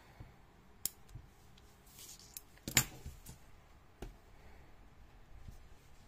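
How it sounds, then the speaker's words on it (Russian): A pair of small scissors snips the leftover yarn tail on a small crocheted fox keychain, giving one sharp close snip among a few faint clicks in a quiet room. "Обрезаю."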